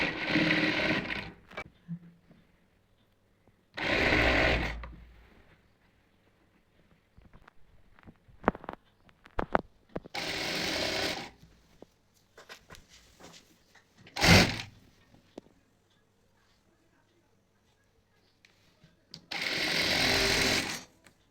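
A sewing machine tack-stitches the belt of a cotton nighty, running in several short loud bursts separated by quiet gaps and scattered clicks and handling noises.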